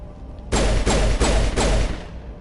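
Gunfire in Mass Effect 1 comes as four loud, booming shots in a slow, evenly spaced sequence, each with a heavy low thump and a short ringing tail.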